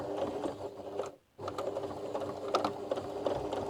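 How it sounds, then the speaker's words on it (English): A sewing machine stitches a seam down the side of a laundry bag, a fast steady mechanical whir that pauses briefly, then resumes at close range. "I will sew down the side."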